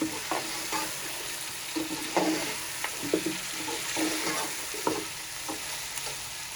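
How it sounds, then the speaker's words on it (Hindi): Mutton pieces fry and sizzle with garam masala in a pan for a mutton pulao, a steady hiss overlaid by repeated scraping stirs close by. "मसाले के साथ थोड़ा सा गोश्त को फ्राई कर लेंगे।"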